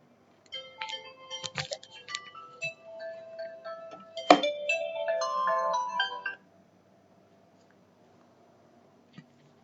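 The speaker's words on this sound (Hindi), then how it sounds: "एक फोन आ रहा है।" A phone ringtone plays an incoming-call melody of bright electronic tones, close and clear, repeating in short phrases for several seconds before cutting off, leaving near silence.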